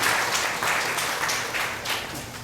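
A short burst of warm audience applause at a Ramayan satsang in a Hindu temple, dense, even clapping at steady volume that tapers slightly toward the end.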